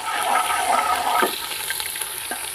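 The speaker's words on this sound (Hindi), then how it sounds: "अब इसमें मैं आपके सामने ही लहसुन अदरक का पेस्ट डालूंगी।" Garlic ginger paste going into browned onions in an open pot for chana pulao gives a loud, steady sizzling hiss that surges briefly, then settles into a softer crackle.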